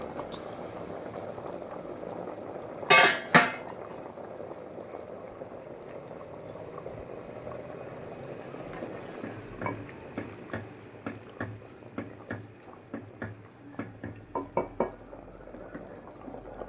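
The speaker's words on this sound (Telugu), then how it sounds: "మంచి పులుసు కాగుతుంది" Tamarind pulusu stew with drumstick leaves and onion-poppy-cumin paste simmers in a pot, soft steady bubbling broken by a couple of sharp clatters and later a run of rhythmic stirring taps.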